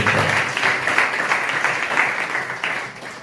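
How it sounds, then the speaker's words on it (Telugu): A church congregation applauds, a dense burst of many hands clapping at once, loud and sustained, then gradually thinning toward the end. "చప్పట్లు కూడా స్తోత్రం"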